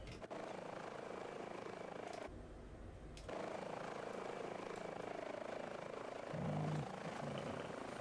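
Airbus H145 helicopter in flight, heard as a steady, loud rotor and turbine drone from inside the aircraft, with a brief quieter dip partway through before the engine roar resumes.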